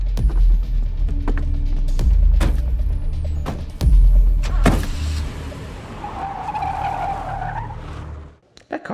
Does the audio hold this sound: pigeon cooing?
no